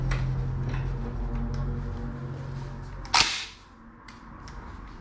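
A KelTec shotgun is cocked with a single sharp, loud mechanical clack near the middle, standing alone over a low steady background hum.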